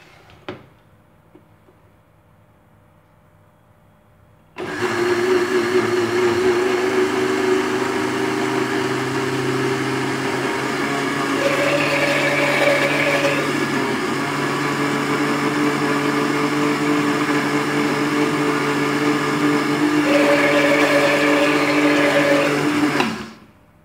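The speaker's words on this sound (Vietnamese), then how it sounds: "Ta bắt đầu xay." An electric blender grinds coconut water for mung bean durian ice cream, starting abruptly and whirring loudly and steadily for about nineteen seconds, its motor pitch shifting slightly midway before it cuts off.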